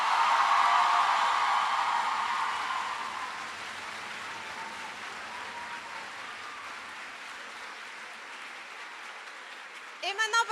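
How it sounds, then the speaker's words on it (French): Applause from an audience at a stage show, greeting a university dean from Aix-en-Provence: a loud wash of clapping that swells at first, then settles into a lower, sustained patter for several seconds. "un tonnerre d'applaudissements pour Monsieur le doyen de la faculté d'Aix-en-Provence, Monsieur Philippe Bonfils"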